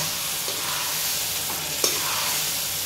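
Goat meat masala fries in a pan with a continuous sizzle, broken by a few soft scrapes as it is stirred, close and unaccompanied by speech.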